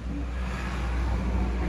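Steady road traffic rumbles past below a balcony, a continuous broadband roar of passing cars with no distinct individual pass-bys.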